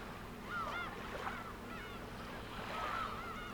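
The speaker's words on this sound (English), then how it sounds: "Alright, are the seagulls too loud or what?" Seagulls cry faintly in the Umineko video game, a few thin swooping calls spaced apart over a low steady hum.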